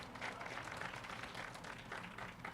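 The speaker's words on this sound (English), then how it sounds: "I think that deserves applause." A crowd applauds at an evening candlelight vigil and awards event about domestic violence, a steady wash of clapping that stays even and fairly close for the whole stretch, with no voices over it.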